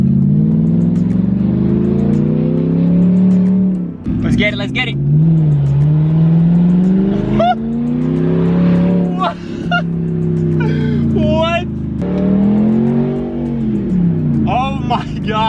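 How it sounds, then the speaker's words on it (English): Straight-piped BMW 650i with a 4.8L V8 revving hard, loud repeated rising and falling engine blasts up close, with excited shouting between the revs. "you can't beat a V8 sound. This thing sounds insane."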